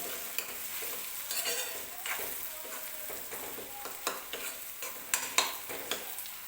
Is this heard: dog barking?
no